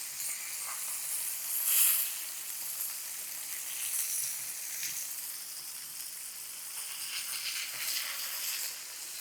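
Steady sizzling of yellow croaker fish frying in a hot pan, a continuous crackly hiss with occasional louder pops, heard alone without talk.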